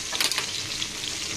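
Tilapia fish fries in a pan over a high flame, giving a short burst of bright, crackling sizzle that continues evenly. No one speaks.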